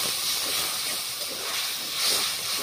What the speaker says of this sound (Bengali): মশলা জলটা একটু পরিমাণ মতো দিয়ে দিচ্ছি